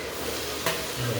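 Turmeric and chili tossed into a hot pan while making vagharelo rotlo, giving a brief soft sizzle and a short stir or scrape close by, with a faint low hum underneath.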